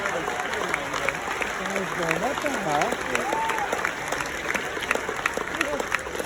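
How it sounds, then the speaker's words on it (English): Audience applause at a hypnosis show, a steady, dense wash of clapping filling the room, with a voice talking over it throughout. "give them all a big round of applause."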